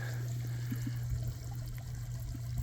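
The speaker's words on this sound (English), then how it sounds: "I got good water flow" Water trickles and flows through the drain of a Dutch bucket aquaponics setup, a steady low wash with a constant hum beneath it, no voices.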